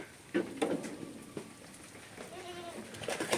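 Goats in a farm pen bleating, a few short quavering calls scattered across a quiet background, fairly faint and without speech.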